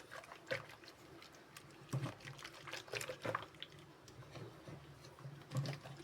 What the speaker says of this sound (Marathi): आता जोपर्यंत याचा गोळा तयार न होत तोपर्यंत आपल्याला घुसळत जायचं आहे